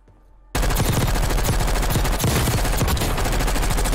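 Sustained heavy automatic gunfire in Call of Duty Warzone bursts in loud and dense after a brief quiet start, rapid shots and impacts crowding together continuously as the player is hit.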